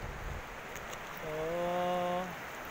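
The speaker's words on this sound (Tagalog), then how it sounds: "konting ulan lang." Light rain falls outdoors near a river, a soft, steady hiss with a brief tonal hum rising over it partway through.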